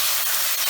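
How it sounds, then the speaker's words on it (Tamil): Tomatoes sizzle and hiss in a hot pan while being sautéed for a tomato potato pulao, giving a brief, steady, close frying sound. "நல்லா வதங்கிடுது தக்காளியெல்லாம்."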